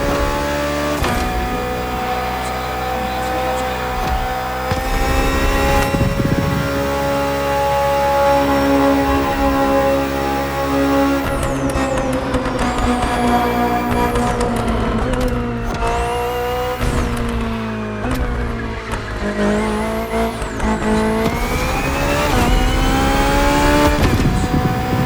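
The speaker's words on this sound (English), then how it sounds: "The B.M.W. M Hybrid V8. What a beast." A 2023 BMW M Hybrid V8 endurance race car built for races like the 24 Hours of Le Mans, its loud engine revving hard and climbing and dropping in pitch through repeated gear changes.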